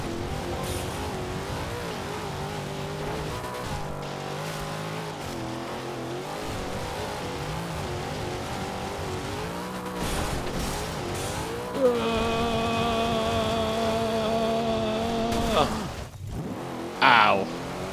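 Dodge Charger racing in Forza Horizon 2, its engine droning steadily and shifting pitch as it accelerates, with tire squeal and a roaring rev near the end, while a player talks over it.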